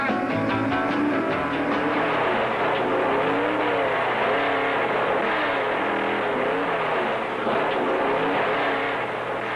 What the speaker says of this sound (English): I got the RPMs up now.